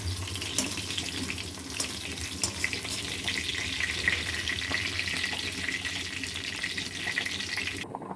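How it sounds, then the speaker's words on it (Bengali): Cashews and raisins fry in ghee in a kadai, a busy crackling sizzle with irregular pops and utensil taps, steady throughout before cutting off at the end. "এরপর কাজু কিশমিশটা আমি ভেজে নিচ্ছি"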